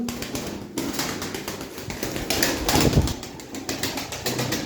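Pigeon wings flapping in bursts, close by, with soft taps and rustles; a faint coo may show up among the flutters.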